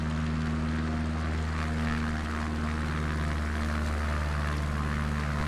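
A propeller airplane engine in Microsoft Flight Simulator 2024 drones steadily and loudly, a constant buzzing hum with a strong low tonal pitch and no talk over it.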